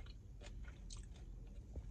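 Close, crunchy bites and chewing of kimchi, with a few sharp crackly crunches over steady chewing noise and no talking.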